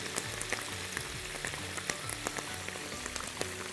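Spaghetti sizzles in a hot frying pan with clams, a close, steady crackle of frying with scattered pops and light stirring.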